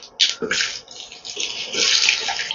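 Potato pieces drop into hot oil tempered with spices and a dried red chili, giving loud, close sizzling bursts that settle into a steady frying hiss.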